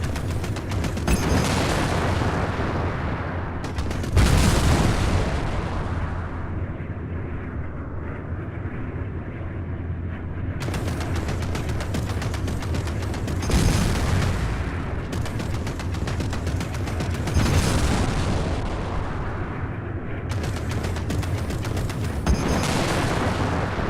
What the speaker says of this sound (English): So you remember how to fire your plasma cannons